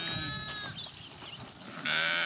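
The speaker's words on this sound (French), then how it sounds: "Cette brebis-là est en train d'agoniser depuis hier soir." A dying ewe on a farm in Haute-Corse bleats weakly in drawn-out, wavering cries, close and fairly loud, with another louder bleat starting near the end.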